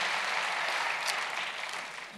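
Steady applause from an audience, a dense wash of clapping that holds evenly throughout and eases slightly toward the end.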